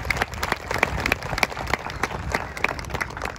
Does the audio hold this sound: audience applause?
yes